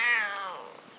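A cat meows once, close and fairly loud, the cry sliding down and fading over about a second with no other sound.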